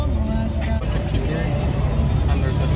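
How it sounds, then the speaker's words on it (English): A car drives through downtown Clearwater, Florida, giving a steady, close low engine and road rumble that holds level throughout with no distinct pass-bys. "Driving downtown Clearwater"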